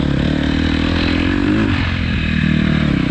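A fuel-injected KTM 250 XC-F dirt bike engine revs hard and continuously, loud and close, with a raspy buzzing drone and no speech.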